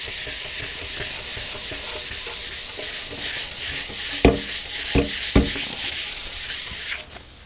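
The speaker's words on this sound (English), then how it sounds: "you can see I'm getting a lot of the finish turning to dust on the sandpaper" Sandpaper rubbed by hand over a wood finish, a steady close scratchy hiss with quick back-and-forth strokes and a few sharper scrapes as pressure increases, fading at the end.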